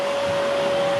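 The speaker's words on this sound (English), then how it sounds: "he's got the Hoover out" A Hoover vacuum cleaner runs steadily in a garage being renovated, a continuous whirring drone with a steady high motor whine, close and unbroken for the whole moment.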